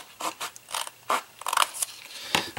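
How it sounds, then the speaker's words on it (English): Scissors cut through card stock in a string of short, crisp snips with small pauses between them, close and clear with no talking. "I'm just going to do it with my scissors."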